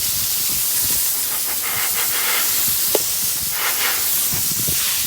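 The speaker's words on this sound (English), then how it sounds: "Let's go ahead and rinse it off." Water spray rinsing a freshly cleaned car wheel during auto detailing: a loud, steady, close hiss of pressurized water running continuously with slight shifts in tone as the stream moves.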